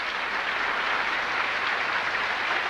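Steady applause from a large audience at the 1974 Eurovision Song Contest fills the hall as Finland's conductor takes his place before the orchestra, a dense even wash of clapping with no voices on top.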